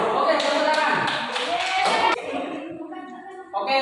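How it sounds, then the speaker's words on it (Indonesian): A classroom group claps hands together, a dense burst of many overlapping claps lasting about two seconds, then fading into scattered chatter and voices. "Oke, tepuk tangan."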